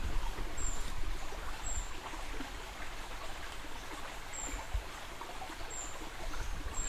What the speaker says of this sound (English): There's a creek here.